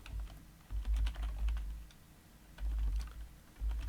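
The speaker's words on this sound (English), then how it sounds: "we do it by typing in no IP domain lookup" Keys clatter on a computer keyboard in bursts of fast typing with short pauses between runs, close and clear with no voices, while commands are entered during a networking lab.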